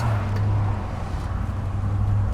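A Ford Mustang 5.0 with a slipping transmission driving in high gear, a steady low engine drone and road rumble heard from inside the car, constant and close with no talk.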